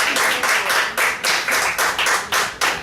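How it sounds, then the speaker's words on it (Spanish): A church congregation claps together in a quick, steady rhythm, each clap crisp and close. "Yo creo que Dios se merece un aplauso por eso."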